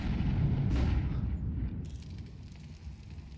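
Molotov fire burning in the video game Counter-Strike during a competitive match, a loud roaring, crackling blaze with a whooshing burst near the start that settles into a steady rumble.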